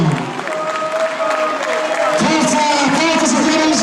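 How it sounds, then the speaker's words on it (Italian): A crowd applauds the AC Treviso football squad being presented for the 2013-2014 season, with steady, dense clapping throughout while an announcer's voice carries over a PA system. "Un applauso per i protagonisti della prossima stagione,"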